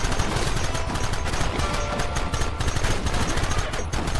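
Dense, continuous gunfire in a Western shootout in Red Dead Redemption, many overlapping shots blurring into a loud, unbroken roar with no pauses.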